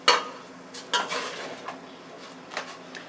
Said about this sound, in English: So now I have my 2 drumsticks right here, and I'm going to put them in.